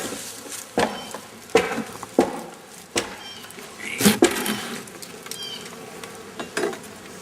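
Honey bees from a hive loaded with honey hum continuously during an inspection, while sharp knocks and thumps of handled equipment break in at irregular intervals, close and fairly loud.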